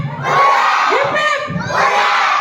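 A large crowd at a pre-Navratri dance event shouts loud hooray cheers in two bursts, full and close.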